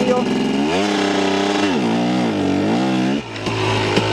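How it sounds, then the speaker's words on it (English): A motorcycle fitted with a Rekluse auto clutch revs loudly and climbs in pitch as the clutch is let out under load on the rear wheel, engine note rising, dipping and rising again before dropping back near the end. "let out your clutch while increasing the RPMs"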